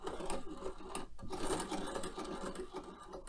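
A Singer 128 sewing machine's hand wheel spins freely, giving a steady, close mechanical whirring and clicking that runs without a break.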